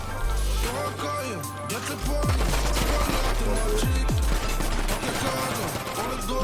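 Dense video-game gunfire in a GTA roleplay shootout: rapid bursts and volleys of shots crackle continuously and loudly, with heavy low-end booms, while players talk over the fighting.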